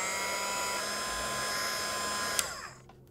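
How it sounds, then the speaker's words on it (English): A Sizzix heat tool blows a steady, loud whirring stream of hot air over wet watercolor paint, holding constant before cutting off and trailing away near the end. "So I'm gonna grab my heat tool. This is a Sizzix heat tool."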